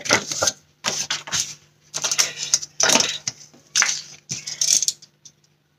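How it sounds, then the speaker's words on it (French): Scissors snip through a scrapbooking shaker bookmark with heat-bonded edges, crisp crunchy cutting bursts in short irregular runs, close and fairly loud, with no talking. "Donc je vais venir couper juste ici là."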